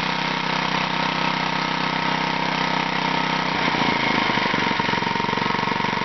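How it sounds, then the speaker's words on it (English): A small engine idles steadily and close by, a smooth, even putter that roughens slightly toward the end, with no talking. "Oh, it's a nice and smooth machine. Listen to that idle."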